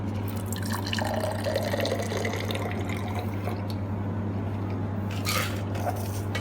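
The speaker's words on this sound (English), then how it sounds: "we use about a strainer to keep something inside the shaker, not pour into the highball glass" A mocktail poured from a shaker through a strainer into a highball glass makes a steady liquid trickle and dripping, moderately close, over a constant low background hum.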